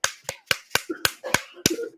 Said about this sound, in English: Oh, you got a golf clap.